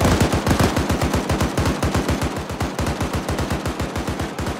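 Sustained automatic gunfire in an ARMA 3 firefight: a long, even string of rapid shots, loud and close, hammering at a steady rhythm for several seconds with almost no pauses.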